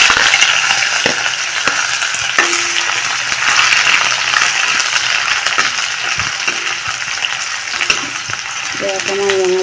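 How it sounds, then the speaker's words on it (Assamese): Finely chopped onions with a dried red chilli sizzle in hot oil in a pan, a loud continuous crackle broken by light clinks and scrapes of stirring. "অকণমান ৰঙচুৱা হোৱালৈকে মই ভাজি ল'ম।"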